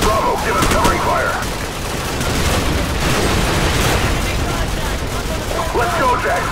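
Call of Duty 4 covering fire and explosions, dense continuous rattle of automatic weapons mixed with booming blasts, loud and constant throughout, with shouted voices in the battle.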